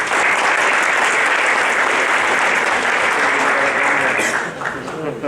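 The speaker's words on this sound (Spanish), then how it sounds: "Agradezco por favor un fuerte aplauso para el ingeniero Juan Carlos" Loud, dense applause from a conference audience at a security technology event, continuous clapping that fades slightly near the end as a voice begins.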